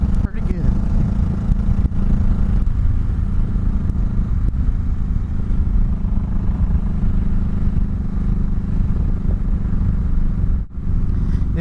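A 2004 Honda Sabre 1100 motorcycle accelerating through the gears gives a loud, continuous low engine drone with wind rumble. There is a brief dip near the end, and a rider talks over the noise.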